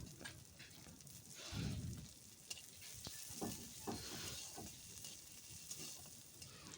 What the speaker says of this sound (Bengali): ক্যাপসিকামটা একটু ভেজে নিয়েছি